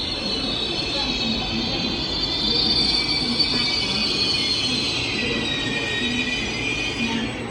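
Train pulling into Andong station in the evening, with a continuous loud rumble and a high sustained wheel squeal.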